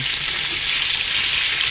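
Steady, loud sizzling of meatballs frying in a hot pan, a continuous crackling hiss with no voices.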